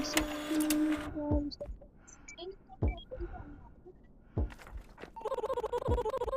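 A badge printer in the video game Animal Hospital Anomaly whirs into action with a rapid, rhythmic mechanical chatter near the end, after scattered thunks and brief tones from the game, while a person talks.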